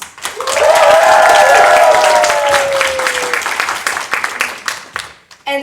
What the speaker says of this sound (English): And give a big round of applause to our fantastic hosts!